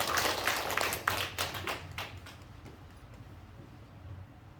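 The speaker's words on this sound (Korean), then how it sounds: "박수." Applause at a church children's competition award ceremony, a room full of clapping hands that starts fairly loud and dense, then thins and fades over a few seconds to a light scatter of claps.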